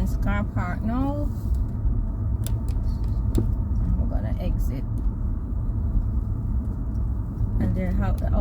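A car pulls out of a university admissions car park with a continuous low engine and tyre rumble, and a person talks over it at the start and end.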